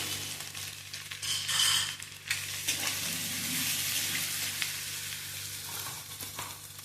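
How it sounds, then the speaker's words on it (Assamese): Potatoes frying in oil with onion, ginger and garlic for aloo dum, a steady close sizzle with small stirring scrapes and a low hum underneath. "পিঁয়াজ, আদা, নহৰুখিনি ভাজি হোৱাৰ পিছত ইয়াতে মই আলুখিনি দিছোঁ"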